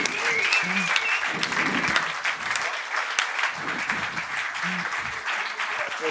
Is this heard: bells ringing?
no